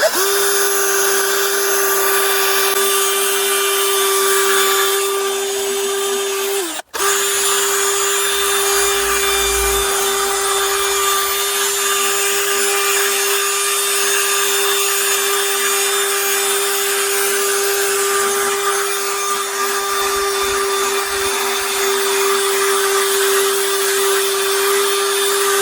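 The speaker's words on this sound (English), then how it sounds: "we're going to run the drill slow and just gradually run it over." A drill running slowly with a polishing pad works Yorkshire Grit compound over a car headlight, giving a steady, close whine with a constant pitch and a brief cut-out partway through before the motor picks up again.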